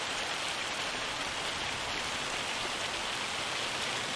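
Steady rain falling in the video game Farming Simulator 25, a dense, even hiss of drops that holds at the same level throughout with no voices over it.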